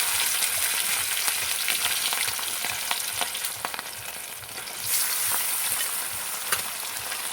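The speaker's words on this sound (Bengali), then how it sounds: "কড়া গরম হয়ে গেছে, কড়ায় দিয়ে দেবো তেল। মাছটা দিয়ে দিয়েছি।" Fish fries in hot oil in a wok, giving a dense, steady sizzling hiss with crackling pops throughout and a brief surge of louder spitting midway.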